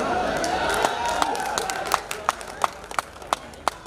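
Scattered claps from an audience at a Hindi kavi sammelan poetry gathering at the Gorakhpur Mahotsav 2021, starting sparse over a murmuring crowd and growing into sharper, more frequent individual claps.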